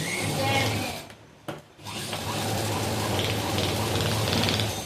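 A sewing machine stitches fabric for a small Laddu Gopal dress, running as a steady, close mechanical whir with one brief stop near the middle.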